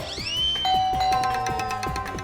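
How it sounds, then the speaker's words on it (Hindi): A doorbell rings loudly and close by, giving ringing chime tones over a repeated pulsing pattern, with no speech underneath. "घंटी बज गई?"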